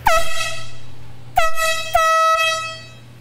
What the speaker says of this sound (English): that's an air horn, guys. Big air horn.